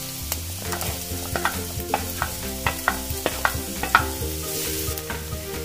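Ginger and onion fry together in a pan, a steady close sizzle broken by regular clinking stirs of a utensil against the metal, with no one talking.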